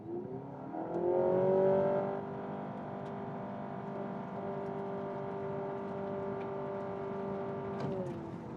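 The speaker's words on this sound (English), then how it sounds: "Let's start with some acceleration." A 2026 Honda Civic e:HEV hybrid accelerating, its engine drone rising and then holding a steady, sustained hum with whirring tones before easing off at the end, heard from inside the car.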